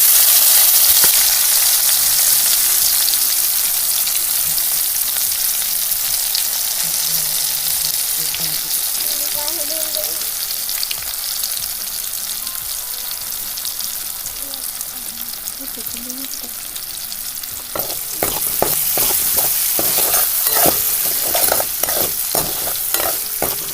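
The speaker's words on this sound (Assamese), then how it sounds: "এতিয়া একেখিনি তেলতে মই পিঁয়াজ দি দিম" Onions frying in oil in a pan, a loud, close sizzle that settles into a steady hiss. Toward the end, rapid scraping stirs come in as a series of sharp strokes.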